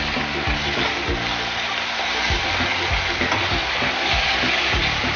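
Ginger garlic paste, ground coriander and mint, and green chili sauté with onions in a pan, giving a dense, close sizzle with repeated stirring scrapes and clatter throughout.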